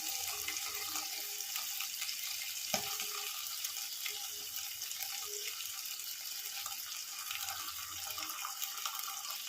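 Fish frying in oil on a tawa under a cover gives a soft, steady sizzle with faint crackles and one brief louder pop, with no talking.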